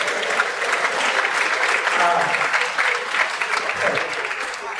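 An audience at a Lagos State pension commission gathering applauds continuously, a dense and steady wash of many hands clapping at moderate loudness throughout.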